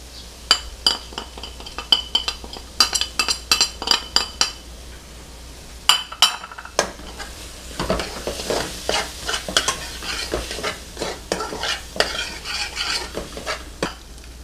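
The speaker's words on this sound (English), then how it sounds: "at this point, you can add your spices, your cumin, your cayenne pepper, paprika" A spoon stirs cumin, cayenne, paprika, turmeric, bay leaf and thyme into thick cooked-down tomato paste in a pot, giving a soft sizzle broken by irregular scraping strokes and sharp clinks of metal on the pot.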